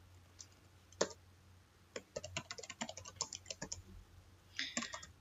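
Someone types a sudo command on a computer keyboard: a single sharp keystroke, then a quick run of close, crisp key clicks and a final short burst, with no talk.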